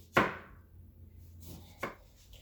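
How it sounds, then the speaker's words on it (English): A knife slices through a lemon on a cutting board, making two crisp separate cuts about a second and a half apart in a quiet kitchen. "Now we're going to do some slices of lemon as well."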